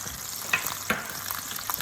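Chicken pieces browning in butter in a pan, a steady close sizzle with a few sharper crackles and spatters popping through, no talking.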